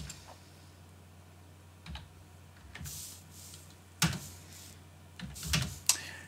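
A computer keyboard is typed on in a CentOS 7 terminal, with a few sparse, quiet keystrokes followed by a quicker cluster of clicks near the end.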